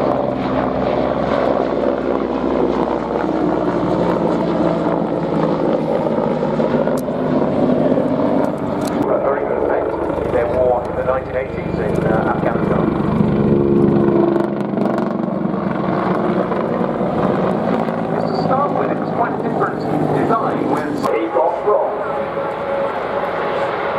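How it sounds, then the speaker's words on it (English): Mil Mi-24P Hind helicopter of the Hungarian Air Force flying at an air show, a loud sustained rotor and turbine roar that swells and shifts, with a commentator talking over it. "Hungarian Air Force, this is the Mil Mi-24P."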